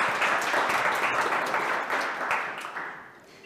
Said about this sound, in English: applause for Danielle